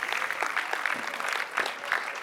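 Audience applause at a boxing club's champions' evening in Melun, a steady dense patter of many hands clapping, moderately loud and continuous throughout.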